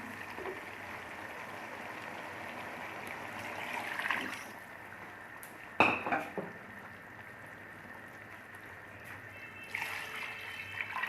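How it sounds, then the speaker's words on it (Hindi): Water streams steadily into a metal pot of rice, a continuous pouring rush with a couple of brief clanks of the vessel along the way. "दो प्याली हमारे पास चावल हैं तो 4 प्याली हम इसमें पानी डालते हैं।"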